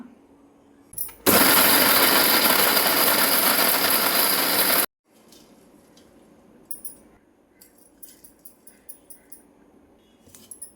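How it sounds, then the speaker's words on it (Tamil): Mixer grinder jar grinding ragi dough, a loud, steady close motor roar lasting several seconds before cutting off abruptly, followed by faint clinks and small knocks. "மிக்சி ஜாரில் நான் சேர்த்து இப்போ அரைச்சி எடுத்துக்கலாம்"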